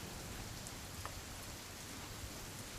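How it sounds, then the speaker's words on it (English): Steady rain falls in the video game What Remains of Edith Finch, a soft, even hiss of drops on surfaces that continues without a break. "It's gonna rain the whole weekend, isn't it?"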